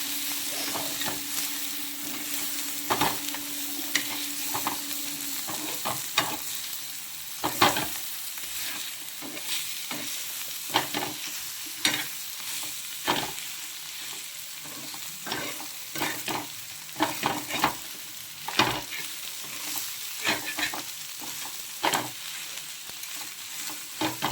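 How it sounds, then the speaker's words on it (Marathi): Egg bhurji made with three eggs frying and being stirred in a pan, with steady sizzle and repeated sharp scraping and clacking strokes of the spatula throughout, close and alone without talk. "आता 3 अंड्याची भुर्जी बनवून घेतली."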